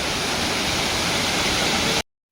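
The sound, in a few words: water falling down a hill, waterfall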